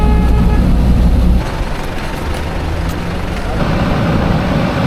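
A bus ride in Zanzibar gives a loud, continuous engine and road rumble from inside the vehicle. The roar drops slightly after the first second and then holds steady.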